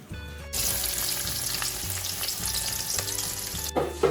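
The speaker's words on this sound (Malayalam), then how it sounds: "സോ ഫസ്റ്റ് നമ്മൾ ഓണിയൻ ഫ്രൈ ചെയ്യാൻ പോവാണ്." Sliced onions sizzle loudly in hot ghee in a well-used pan, a steady close crackle with brief stirring pauses and no voices.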